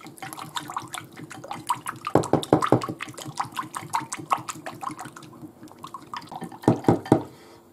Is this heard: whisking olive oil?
yes